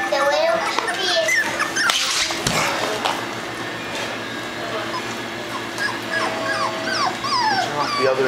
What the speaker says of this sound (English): Oh, that puppy is nursing.